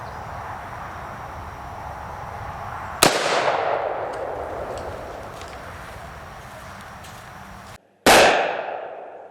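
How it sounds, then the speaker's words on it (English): .223 rifle shots, 40-grain Winchester white box from a 16-inch barrel, striking an oil-hardened steel armor plate: two sharp, loud cracks a few seconds apart, each followed by a short ringing decay outdoors. "I'm only shooting the 4th plate that has been oil hardened with 223"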